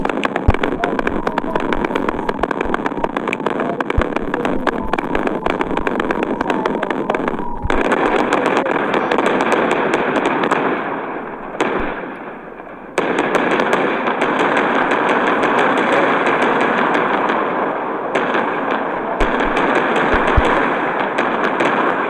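Bombs drop continuously in the video game WorldBox, a dense, loud stream of rapid crackling explosions that runs almost unbroken with only brief dips.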